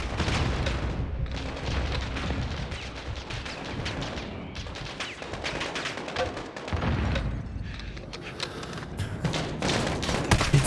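Grenade launcher (noob tube) explosions in a Modern Warfare video game, heard as repeated booming blasts mixed with gunfire throughout, loud and dense with rumbling low end.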